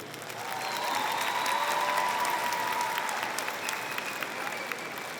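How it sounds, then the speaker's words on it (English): A graduation audience at Winton Woods High School gives a sustained round of applause for families and relatives, the dense clapping swelling in and holding steady for several seconds, with a few faint whistles or cheers threaded through it. "You need a round of applause."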